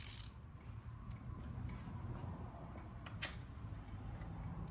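A socket ratchet on the 17 mm oil drain bolt of a 2003 Honda CBR600RR, reached with an extension past the headers, gives a soft, close, steady clicking over a low background hum.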